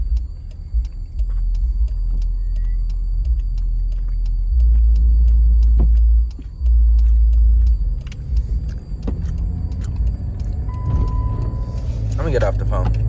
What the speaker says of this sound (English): So I'm about to let this Jeep warm up.